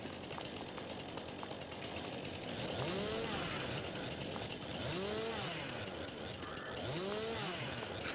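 Chainsaw in Farming Simulator 22 running steadily with a buzzing, revving drone that rises and falls in pitch over several seconds, fairly close and continuous, with faint background game noise.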